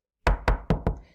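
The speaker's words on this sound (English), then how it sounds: "they heard the big bad shark knocking at the door" Four firm knocks on a door, evenly spaced and close, played as a sound effect during a children's story reading, with no voices over them.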